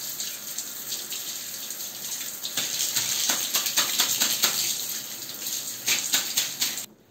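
Running tap water flows steadily into a sink while a toilet brush is rinsed under it, with irregular splashing bursts and scrubbing spatters rising in the middle and near the end.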